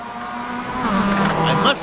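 Mazda MX-5 and Ford Mustang race cars at Imola, engines droning and rising in pitch as they pass, heard under a commentator's continuous talk.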